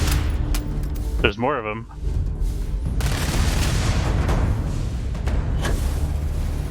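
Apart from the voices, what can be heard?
gunfire in the video game Starfield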